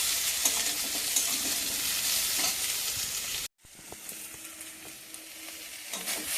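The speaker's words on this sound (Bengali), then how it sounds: "আলু আর কচুটা কষানো হয়ে গেছে" Potato and taro sautéing in a pan, a steady close sizzle with scraping and stirring clicks, briefly cutting out midway before resuming more quietly.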